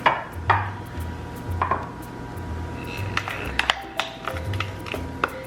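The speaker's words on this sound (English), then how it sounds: "And then I will just put this evenly into the 2 pans." Metal utensils clink and scrape against two baking pans in short, irregular taps, with soft thuds of double chocolate banana bread batter being spooned out, close and fairly quiet.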